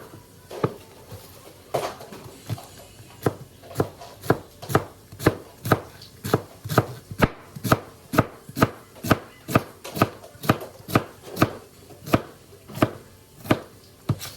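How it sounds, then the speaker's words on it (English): A knife shreds cabbage for Jamaican-style cabbage on a cutting board, giving a long series of sharp, evenly spaced chops at close range that speed up slightly as the cutting goes on. "and begin to shred. Make shreds of it."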